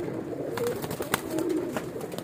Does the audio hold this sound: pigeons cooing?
yes